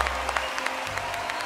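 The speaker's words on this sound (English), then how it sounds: "Round of applause for Heidi." Audience at a teen talent show keeps up a steady round of applause from a crowd in the hall, continuous dense clapping with brief low rumble under it.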